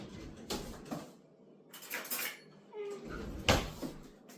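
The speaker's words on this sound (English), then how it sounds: "Whisk. And, yeah, give it a good stir." Apple stack cake batter being whisked and stirred in a bowl, with a whisk clinking and scraping against the sides in irregular bursts of loud and quiet strokes.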